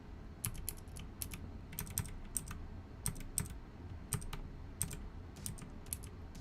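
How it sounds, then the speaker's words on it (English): Arrow keys on a computer keyboard being tapped in quick bursts of sharp, light clicks, some single and some in rapid pairs, close and clear against a quiet room with no talking. "Use my arrow keys to get this right where I want it."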